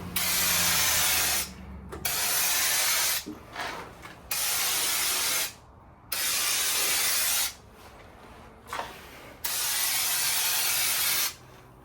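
Bursts of spray coating applied to the floor of a 1961 Mercury Comet, several long hissing passes, loud and close, separated by short pauses with faint handling noise.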